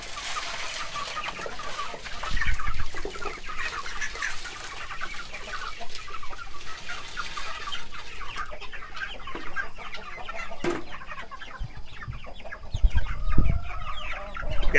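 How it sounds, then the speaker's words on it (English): A homestead flock of chickens crowds a feeder, clucking and squawking continuously at close range, with a rooster crowing and scattered rustling and pecking throughout. "these chickens get fed twice a day, and they act like they starving to death all the time"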